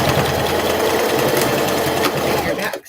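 Sewing machine stitching pleats on a dress, a loud close continuous motor whir with rapid needle rattle that runs steadily and then cuts off abruptly at the end.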